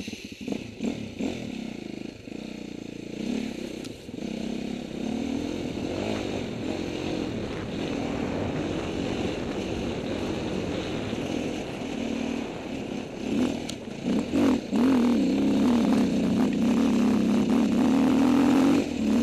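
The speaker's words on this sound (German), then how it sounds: "ich steige auf mein pittoreskes Bike und dann fahren wir da die 34 hoch" Motorcycle climbing uphill on special stage 34 of the 2010 Rally of Discovery, its engine droning steadily and close for the whole stretch, rising and revving harder toward the end.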